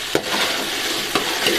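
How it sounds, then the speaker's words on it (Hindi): Potatoes and whole green chillies stirred in a pot for potato biryani, giving steady scraping and sizzling with a few sharper clinks of the spoon against the pot, close and fairly loud. "एक दफ़ा मिक्स करेंगे इस तरह।"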